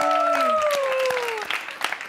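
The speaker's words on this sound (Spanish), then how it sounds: "¿Cómo están los gritos y aplausos para nuestros apaches?" Screams and applause from a studio audience cheering a group dressed as Apaches at a Wild West themed dating show, with loud cheering and high shouts over steady clapping, short and close.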